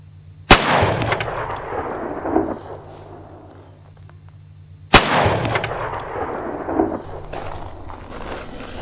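Two loud, sharp gunshots from a Ruger .44 Magnum revolver loaded with 240 grain jacketed hollow point rounds, about four seconds apart, each with a booming report that rolls off into a long outdoor echo.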